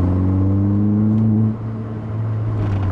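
A 2007 Mini Cooper S engine and exhaust under way, a steady droning hum with a brief dip as the revs shift midway before it settles again, close and loud with no talking.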